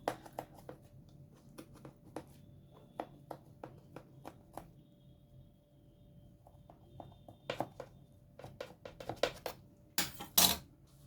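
Quiet, irregular taps and scrapes of a knife cutting Syrian bread with minced meat in a metal baking tray, with a few sharper clatters toward the end.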